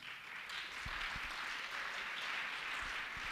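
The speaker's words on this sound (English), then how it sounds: "Can you please clap hands for that?" An audience at a school dialogue on gender-based violence gives a soft, dense round of clapping, faint and distant, steady for a few seconds.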